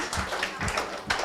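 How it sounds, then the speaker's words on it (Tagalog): A live audience claps for a mentor at the close of a talk on the basics of MLM, a short burst of dense clapping with faint voices mixed in. "Let's give another round of applause."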